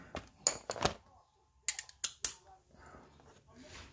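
Ratchet wrench clicking on the connecting rod bolts of a SOHC turbo Honda Civic engine, short bursts of sharp ratcheting clicks separated by pauses, close and fairly quiet.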